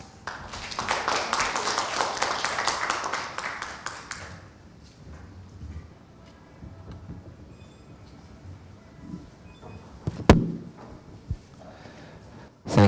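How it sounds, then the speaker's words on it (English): Applause from an audience at a One Health conference on animal health and food security in Asia Pacific, with moderate clapping for about four seconds that then fades to quiet room noise, a few faint taps and a sharp knock. "Avila a round of applause"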